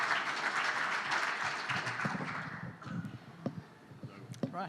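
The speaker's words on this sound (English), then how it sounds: "Let's give a round of applause" An audience at an agricultural climate-change lecture applauds, a broad wash of clapping that swells and then thins out into a few scattered claps and shuffles, heard from a moderate distance.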